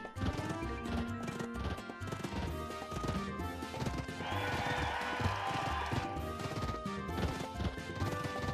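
Horse hooves gallop in a Harvest Moon video game race, a quick clip-clop rhythm under game music and sound effects throughout.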